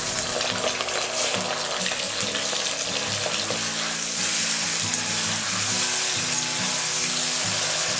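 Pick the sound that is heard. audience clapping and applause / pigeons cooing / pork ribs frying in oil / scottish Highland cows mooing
pork ribs frying in oil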